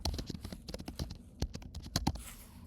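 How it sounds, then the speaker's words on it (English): A computer keyboard clatters under quick typing, with keys pressed for a Control and Enter shortcut in a Google Sheets data table, soft close taps in an uneven run with a few sharper strikes. "I'm going to hit Control and Enter on my keyboard to drop it down to the next line"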